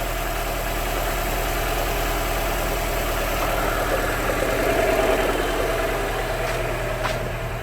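A Mini Cooper with a rebuilt CVT transmission running and spinning, a steady low engine drone and hum with faint vibration, continuous and close, no voices.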